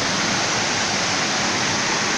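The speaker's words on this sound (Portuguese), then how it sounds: "70 metros de queda d'água." Salto do Pantano waterfall with its 70-metre drop, a loud, steady broadband roar of falling water filling the whole clip with no voices over it.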